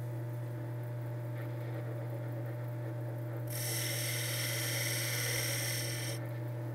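A skew chisel cuts a wooden top spinning on a lathe, a bright hissing shave that starts partway through over the lathe's steady low motor hum, then stops, leaving the hum alone.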